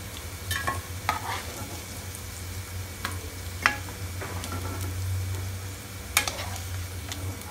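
Potatoes frying in oil alongside paneer dishes, a constant low bubbling sizzle with occasional sharp clinks and scrapes of a utensil against the pan.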